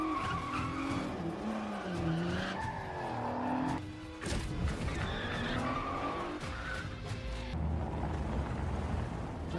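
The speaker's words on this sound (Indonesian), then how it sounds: "Doom dan Brian sedang melakukan balapan untuk menentukan siapa yang paling hebat." Cars race and skid in a Fast & Furious 6 film street-race scene, with loud sustained tire squeals, sliding pitch sweeps, roaring engines and a sharp impact-like burst partway through.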